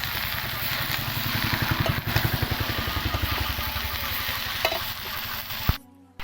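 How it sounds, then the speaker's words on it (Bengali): Young jackfruit and potatoes stirred while frying in a pan, a rhythmic scraping of the spoon over a steady sizzle, close up and without talk, stopping abruptly near the end. "আলু এবার ভালো করে নাড়িয়ে নেবো"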